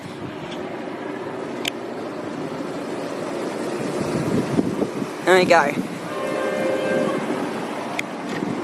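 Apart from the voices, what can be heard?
Ballarat beer festival train passing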